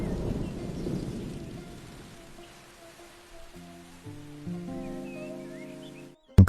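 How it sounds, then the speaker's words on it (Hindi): Rain falls steadily outside during a thunderstorm, loudest at the start and easing off gradually, with a low rumble underneath. Soft tonal music rises over it toward the end. "बेटा, अब बाहर की वर्षा थम चुकी है।"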